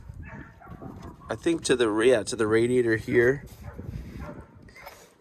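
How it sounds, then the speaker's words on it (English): Dogs near an abandoned 1971 International truck let out a burst of yelping, whining barks for a couple of seconds, close and loud, after a brief spoken remark. "dang these dogs"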